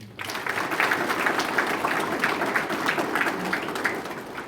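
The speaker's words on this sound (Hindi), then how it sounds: "आपके लिए भी एक बार जोरदार ताली हो जाए।" A hall audience at a marriage preparation gathering and holy mass claps steadily, a dense, even wash of applause that holds throughout with a short voice at the very start.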